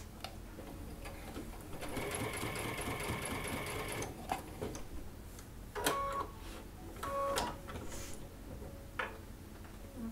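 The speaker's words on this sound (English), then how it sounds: "If you're not used to stitching around curves, leave your machine in needle down position" Sewing machine stitching an appliqué bunny slipper around curves, running in steady rapid bursts with stops and pauses between runs, close and fairly quiet with no talk.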